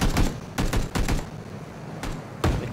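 Several sharp bursts of gunfire in Battlefield 4 crack out in quick clusters, separated by short pauses, with no voices.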